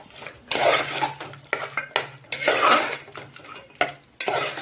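A metal spoon scraping and clanking against a cooking pot as food seasoned with salt and turmeric is stirred, in a series of loud, uneven strokes and knocks, close up with no talk.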